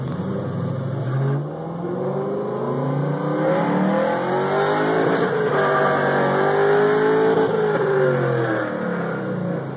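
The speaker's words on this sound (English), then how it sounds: "Man, a race car." Race car engine revving hard through repeated rising and falling gear sweeps, loud and close from inside the car for nearly ten seconds, with no talking.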